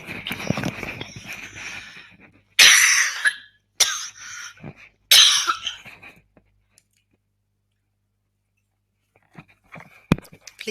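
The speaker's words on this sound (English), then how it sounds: "Excuse me a moment, I need to cough." A person with a chest infection coughs in a few sharp, harsh bursts close to the mic, followed by near silence and faint small noises.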